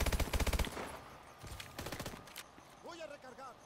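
Rapid bursts of automatic gunfire from Call of Duty: Advanced Warfare, Infected mode, loud and close at first, then scattered shots and electronic game effects under a voice.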